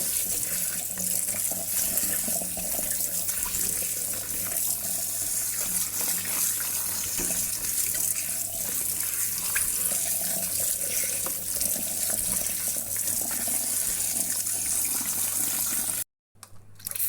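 A faucet pours steadily into a sink as freshly cut ginger is washed under it, a close, unbroken gush of water that cuts out abruptly near the end, with no voices.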